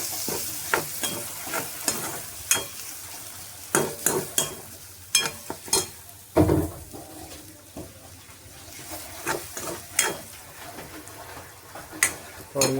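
Sliced potatoes for a dry fasting-style bhaji fry in a pan, with a steady low sizzle and repeated sharp scrapes and clicks of a spoon stirring them, close and fairly quiet.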